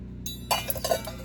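A pan, a plate and a lid being handled in a kitchen at about seven o'clock, giving several close, bright clinks and knocks in quick succession with no talking.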